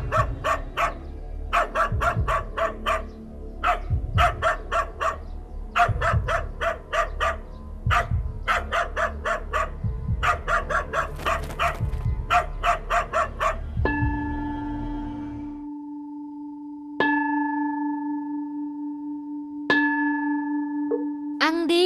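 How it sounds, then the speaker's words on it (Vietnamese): A fierce dog barking in rapid, loud volleys of sharp, close barks for about fifteen seconds, then falling silent as sustained tones take over. "Khiếp quá, con chó này hung dữ thật."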